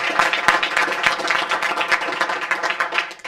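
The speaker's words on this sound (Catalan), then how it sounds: "sisplau, un fort aplaudiment per" An audience at a school event claps for a guest, a dense burst of rapid applause that runs steadily for a few seconds, loud and close, with no one speaking over it.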